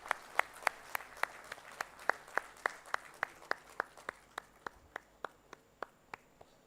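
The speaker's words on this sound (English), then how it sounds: "I see a lot of applause from our dignitaries on stage. If you can all match with that" An audience at a textile industry launch event in Bhubaneswar claps in a sparse, fairly steady rhythm, with distinct individual claps, fairly quiet overall and thinning out toward the end.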